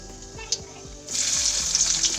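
Chicken curry cooking begins with oil in a hot pan and panch phoron spices tossed in, giving a sudden steady sizzle that swells and holds after a brief quieter stretch. There is a faint clink near the start.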